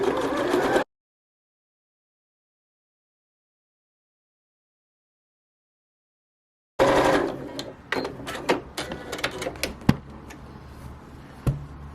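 A sewing machine stitches pom-pom trim onto bunting. Its close, whirring run stops, then after a long silence it restarts in bursts with sharp clicks and knocks.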